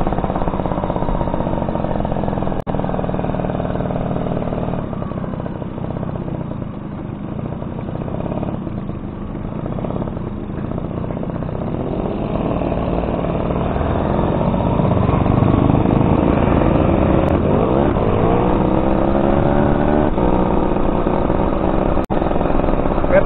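A Suzuki RC100 motorcycle engine riding offroad, its mid-pitched engine note droning continuously and rising in revs toward the end as it climbs and descends slopes, close and fairly loud throughout.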